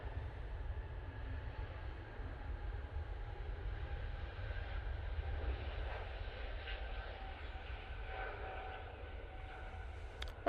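An easyJet airliner departs Manchester Airport bound for Faro. It is heard as a faint, steady, distant jet roar with a deep low rumble that holds for the whole stretch, with no voices.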